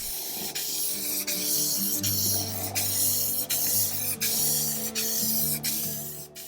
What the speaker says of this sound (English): Now I'm spraying clear satin lacquer and I'm going to apply 4 coats.